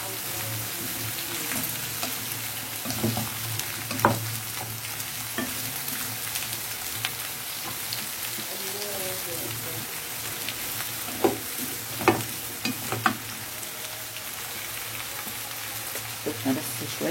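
Food gets a light sauté in a pan, giving a steady close crackling sizzle with occasional stirring clicks and scrapes spaced through it.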